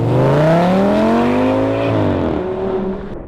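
Lamborghini V10 engine fitted to an Audi S6/S8, revving loudly with a rising, harmonic-rich wail that climbs, then dips and levels off, heard up close with no talk.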